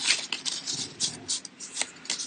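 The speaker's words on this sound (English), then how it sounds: "give everything a shuffle up" A deck of cards for a dungeon-crawl board game being shuffled up close, a run of quick papery riffling bursts in an uneven rhythm, fairly soft and with no talking.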